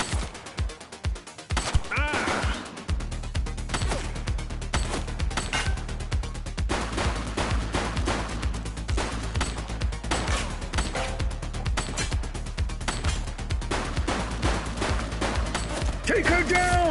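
Gunfire in the police video game The Precinct: rapid bursts of shots and crashing impacts ring out almost continuously over a low rumbling background, with voices calling out between the volleys.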